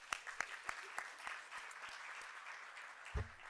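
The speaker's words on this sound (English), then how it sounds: "let's give a round of applause to Impact" Clapping from an audience at an Indian American Impact event, with sharp claps at the start thinning into softer, scattered applause and a thump near the end, faint and fairly distant.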